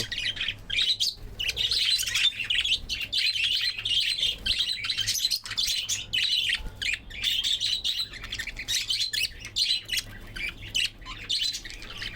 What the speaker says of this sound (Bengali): প্রথমে দেখছেন বাজিগার পাখি এই জোড়া পাখিটার